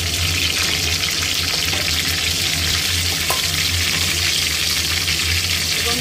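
Bay leaf, cinnamon and cloves sizzling in a generous amount of hot ghee, a loud, even, unbroken crackle and hiss filling the clip, with no voices.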